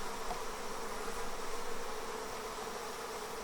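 A honeybee swarm clustered on the underside of a plastic hive tote lid gives off a dense, steady, close buzz, unbroken and even throughout with no voices.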